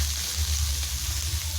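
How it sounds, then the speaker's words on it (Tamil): Onions and tomatoes fry in sesame oil in a kadai, giving an even, dense sizzle over a low hum for a brief moment. "அதே கடாயில் இப்போ கொஞ்சம் நல்லெண்ணெய் விட்டு வெங்காயம் தக்காளியும் வறுத்துக்கலாம்."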